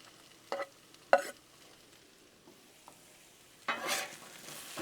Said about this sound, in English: let's go ahead and add our onions in.